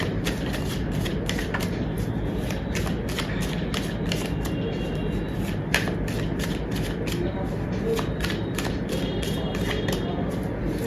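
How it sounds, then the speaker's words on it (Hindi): Tarot cards being shuffled by hand in a steady run of quick riffling, flapping bursts that carry on throughout at close range, with a low hum of background noise underneath. "जब तक मैं कार्ड शफल कर रही हूँ"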